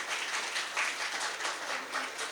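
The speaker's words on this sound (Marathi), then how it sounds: "म्हणून त्यांच्यासाठी जोरदार टाळ्या वाजवा." Audience applause in a hall at a Marathi poetry event, a steady broad wash of clapping running throughout without any break or talk over it.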